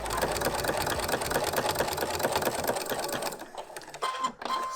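Sewing machine stitching to neaten the raw fabric edges of a custom glasses case, running in a steady fast mechanical whir for several seconds before slowing and stopping near the end.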